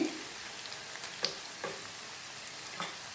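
Chicken pieces frying for gongura pickle give a soft, steady sizzle, with a few brief stirring clicks and scrapes near the start and toward the end.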